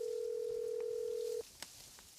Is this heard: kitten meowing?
no